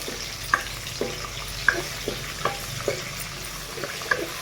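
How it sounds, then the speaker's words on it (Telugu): Chana dal, mustard seeds, cumin, urad dal, curry leaves and dried red chillies fry in oil on a low flame for a tamarind pulihora tempering. Scattered small pops and scraping stirs rise over a faint sizzle, with no voices. "సిమ్లో పెట్టుకొని ఫ్రై చేసుకోండి ఇవన్నీ."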